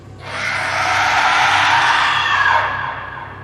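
A loud, sustained scream swells in, holds for about three seconds with a slightly shifting pitch, then fades; no talking.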